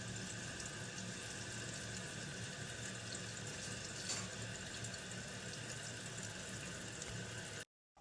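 Water rushes steadily as a Kohler toilet tank refills after a running-toilet repair, a constant close hiss of flowing water that cuts off abruptly at the end.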